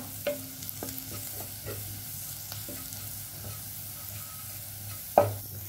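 Garam masala with other spices is stirred and heated in a pan for egg bhurji, making a low, steady sizzle with scattered light spoon scrapes and a sharp clank of metal near the end.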